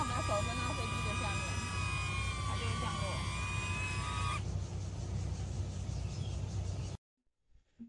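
A DJI Neo drone flies and climbs: a steady, close whirring hum with whining tones that shifts to a broader rushing noise before cutting off abruptly.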